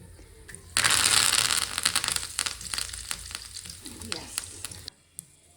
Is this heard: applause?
no